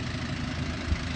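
A 1984 Mazda B2200 long-bed pickup with a diesel engine idles in a steady low rumble, close and continuous, with one brief thump near the end.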